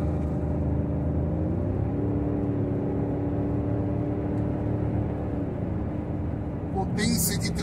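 A Porsche Cayenne S with a 4.5 V8 of 340 hp and 110,000 km holds a loud, steady, low droning engine note for several seconds, ending in a brief sharp noise.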